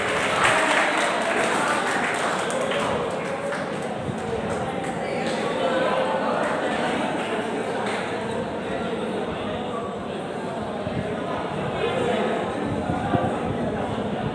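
Audience applause at an award ceremony, a steady dense clapping from a crowd filling the hall without pause, loud and continuous throughout.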